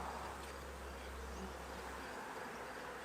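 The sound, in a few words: honey bees buzzing on hive frames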